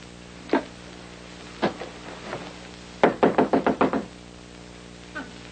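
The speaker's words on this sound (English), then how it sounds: "When I knock, you let me in." Knocking on a door in an old sitcom: a few scattered single knocks, then a quick loud burst of about six raps close by, and one final soft knock, with no talk.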